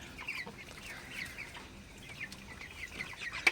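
Broiler chickens cluck in short, scattered bursts at a moderate distance, with a slightly louder squawk near the end.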